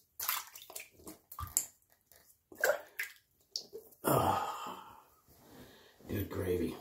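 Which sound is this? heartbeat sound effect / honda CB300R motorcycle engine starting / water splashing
water splashing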